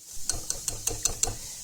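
A hand-cranked mixer works through dough as flour is added, giving six evenly spaced mechanical clicks like a ratchet over a low grinding rumble, fairly quiet and close.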